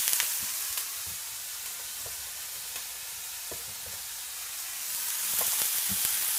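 Rice frying in a hot pan for Chinese fried rice with scrambled eggs, a steady sizzling hiss with scattered stirring scrapes and clicks, fairly close and continuous, with no talk.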